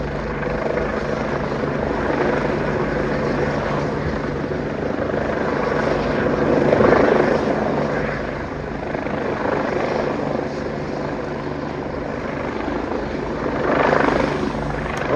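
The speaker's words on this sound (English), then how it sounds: "I love these choppers, man." A London NPAS police EC145 helicopter circles overhead, its steady rotor thrum and turbine whine swelling and fading gently as it passes at moderate distance, with no voices.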